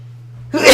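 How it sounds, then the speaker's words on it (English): A single loud, close human sneeze, a quiet intake of breath followed by a sharp burst. "I gotta sneeze."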